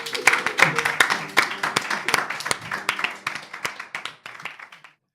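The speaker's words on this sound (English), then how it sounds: "Ladies and gentlemen, round of applause" A comedy club audience claps for comedian Geoff Norcott, a dense burst of applause that thins into scattered claps and fades to silence within about five seconds.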